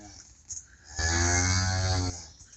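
A cow on a farm where a calf is being born gives one long, loud, sustained moo lasting about a second, close by, after a brief quieter sound.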